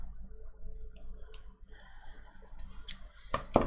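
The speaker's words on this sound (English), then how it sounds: "Okay, I'm gonna cut this." Scissors cut through paper planner pages in a quick series of close, crisp snips that build toward a louder final cut, with faint rustling between them.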